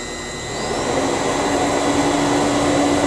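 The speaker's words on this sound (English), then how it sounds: "Go ahead and turn our downdraft." A downdraft vacuum extraction unit for a 24W laser on a Onefinity CNC spins up within the first half second, then runs as a loud, steady whooshing roar with a faint tonal whine.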